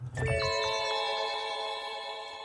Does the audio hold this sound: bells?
yes